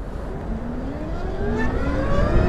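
Zero FXE 11 kW electric motorcycle at full throttle, a rising whine climbing steadily in pitch over broad road and wind rumble, loud and close, building in level toward the end.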